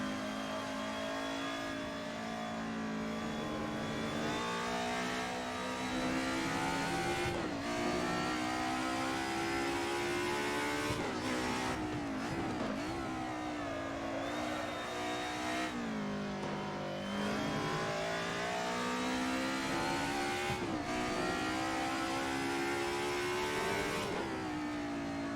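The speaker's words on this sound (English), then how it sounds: "Really enjoy the sound of this car, actually. It's a unique sound for a four-cylinder." A four-cylinder car engine in a racing video game revs hard and continuously, rising in pitch through gears with repeated shift drops and lifts, loud and close throughout.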